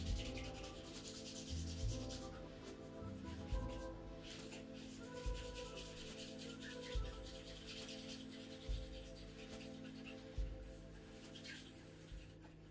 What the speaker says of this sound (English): The most fun of polishing comes from shining the toe caps